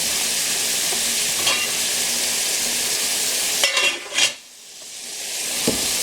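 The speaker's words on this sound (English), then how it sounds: "I'm hoping you can hear me over the fan and the frying pan, because I know it's loud." Loud, steady sizzling of hamburger meat frying in a pan, a continuous bright hiss that briefly drops away near the end before building back up.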